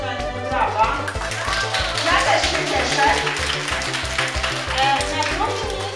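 A school class claps for the winners of a fun maths contest, quick scattered clapping mixed with children's voices, beneath strong rhythmic music.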